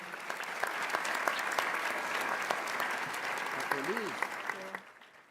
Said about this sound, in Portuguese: uma salva de palmas a todas as autoridades nominadas até o momento.